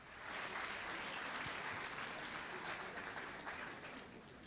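Congregation at a canonization celebration applauds, a soft, even wash of clapping that holds steady across a few seconds, heard from a distance and faint throughout.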